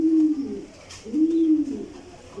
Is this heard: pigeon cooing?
yes